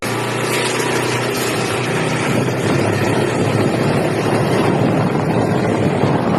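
A tuned boat engine runs steadily and loudly throughout, a continuous broadband roar with wind buffeting the microphone and no talk.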